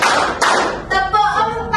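A group of students in an elementary classroom simulation claps in a counting clap game, a few sharp, loud claps in quick succession, with voices chanting along.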